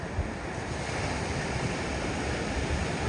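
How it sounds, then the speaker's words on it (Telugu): Ocean surf breaking on the sand at Myrtle Beach, a steady close roar of waves with some wind buffeting the microphone, no voices. "అయితే అలల సౌండ్ మాత్రం అద్భుతంగా ఉంటుందండి"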